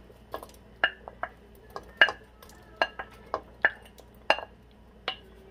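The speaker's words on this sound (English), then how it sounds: "We're going to add our onion. And there goes the Serrano." Onion, serrano and peppers dropping into a hot pan for homemade enchiladas with Mexican rice, giving a series of sharp clattering hits and stirring scrapes about every second over a low sizzle, close and fairly quiet, with no talk.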